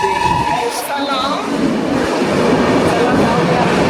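A train rumbling through a station in Mumbai during rain, a loud broad roar with a brief high metallic squeal, and people talking in the noise.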